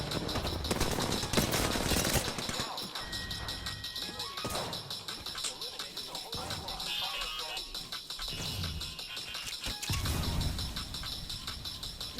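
Bursts of gunfire in a video game shooter, with heavy volleys near the start and again around ten seconds, thuds and scattered shots between, under a busy mix of game sound and voices.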